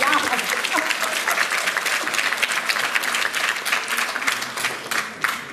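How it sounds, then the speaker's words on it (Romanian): Sustained applause from a large audience, thick and even for several seconds, with faint voices underneath. "îmi pare bine că v-am făcut să aplaudați"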